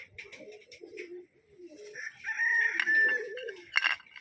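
Pigeon and fowl calls come from a backyard setting where an injured pigeon is being treated, with a few close, moderately loud cries and a crowing-like call rising over faint background noise.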